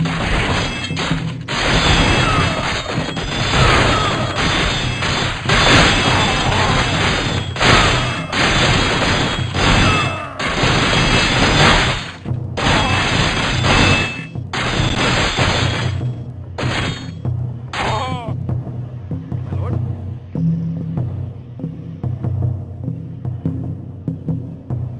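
Battle din from an enemy army attack in the strategy video game Kingdoms of Darien: a dense, continuous wash of clashing, crashing and clanking impacts with a steady hum, loud throughout and fading slightly near the end.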